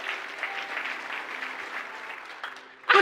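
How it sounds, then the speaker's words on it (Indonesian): Steady applause from a church congregation, a dense wash of many hands clapping together that runs the whole length and swells to a louder burst at the very end. "Oke, tepuk tangan."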